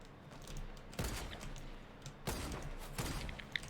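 Gunfire in the Fortnite video game: several sharp, loud volleys of shots with rattling bursts, the strongest around one second and again past two seconds, over a constant background of game noise.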